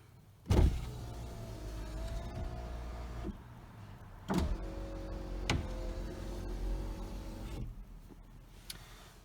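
A 1997 TVR Cerbera's driver's power window motor whirs steadily through several runs, each ending in a sharp thunk as the glass stops, with faint clicks between.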